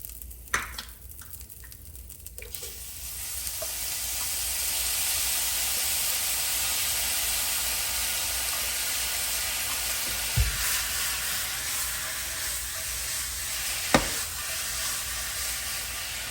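Bakken's Japanese barbecue sauce hits hot frying food, producing a steady, close, loud sizzle and hiss that holds throughout, with a couple of brief clinks near the end.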